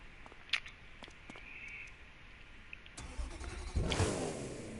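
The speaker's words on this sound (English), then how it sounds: "Y'all hear that turbo boost?" A Lamborghini in the racing game The Crew 2 builds a rising turbo-boost surge from a steady engine drone, swelling loudly near the end with no talk.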